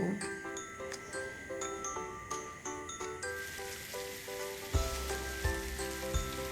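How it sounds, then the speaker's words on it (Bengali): Bhetki fish bones fry in hot oil in a pan, giving a soft crackle that swells into a louder, continuous sizzle halfway through, over a light musical background. "কাঁটাগুলো ভালো করে ভেজে তুলে রাখব"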